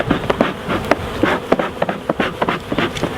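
Honey bees buzz around the edge of a beehive box as the next box goes on, a close, busy hum broken by sharp individual wingbeat passes and knocks from handling the hive.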